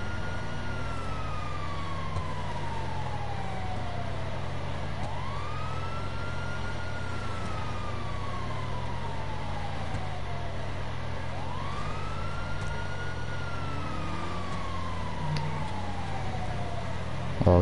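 A police siren in GTA 5 Online wails in long, repeating rising and falling sweeps over a low vehicle rumble, steady and continuous throughout.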